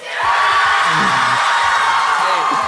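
Audience cheering and whooping for a contestant in a bead-count contest rises quickly and stays loud and dense, with individual yells and hollers poking out of the crowd roar.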